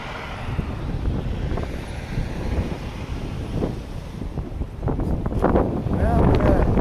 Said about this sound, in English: Well, we got quite a bit of wind right here.